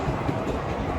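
Steady rumbling roar of a metro train in motion, broadband and constant, with faint rhythmic rattling and no clear voices.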